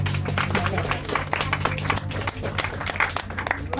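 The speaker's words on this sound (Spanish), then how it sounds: "Un aplauso para Laura." Steady applause from an audience, dense clapping sustained throughout with a low hum underneath.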